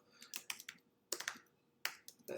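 Typing on a computer keyboard while writing a paper, with quick bursts of clicking keystrokes separated by short pauses, close and fairly quiet.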